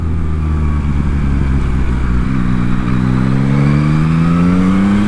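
Yamaha MT-09 motorcycle engine revving loudly and continuously with an up-and-down auto-blip quickshifter, the pitch climbing steadily through the gears as the bike accelerates close by.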